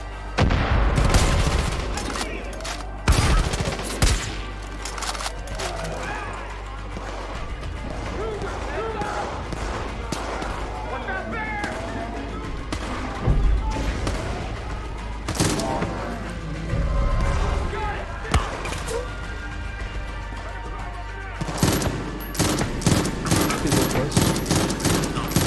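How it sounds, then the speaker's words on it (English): Mortar barrage in Far Cry 5, with irregular booming impacts and sharp bursts scattered across the span, heavier clusters at the start and end, mixed with background game noise and some talk. "Everyone sending mortars."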